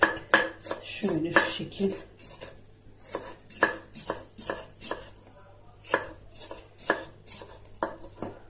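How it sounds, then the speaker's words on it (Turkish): Knife chopping vegetables finely on a board for a Turkish spoon salad, a run of crisp, close, regular cuts with brief pauses, a short spoken phrase near the start. "Bunları da aynı şekilde minik minik doğruyorum"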